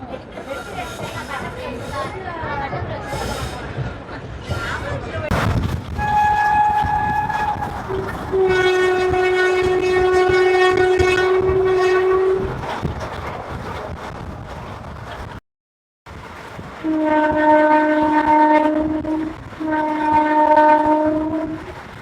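The Mayiladuthurai–Sengottai Express departs a station, sounding loud, sustained horn blasts that break off briefly and return, over rumbling rail noise with voices nearby.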